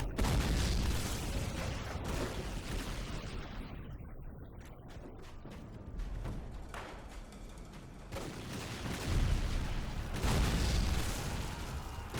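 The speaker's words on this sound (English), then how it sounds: "Really shooting up this guy's leg." Video game gunfire plays as dense bursts and booming shots rolling on throughout, loud with washes of noisy reverberation.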